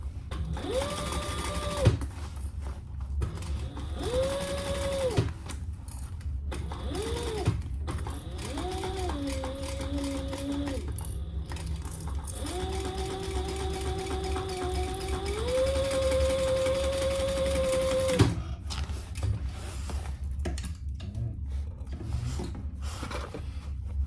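A sewing machine back stitching a small traveler bag, a close mechanical whir with changing motor pitch as it runs forward and reverses, nearly continuous with a few brief stops.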